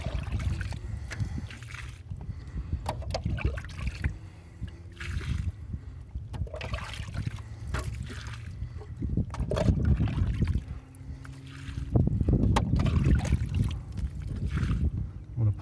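Water being scooped by hand out of a flooded foundation hole, with repeated sloshing, splashing and trickling pours in an irregular rhythm, close by.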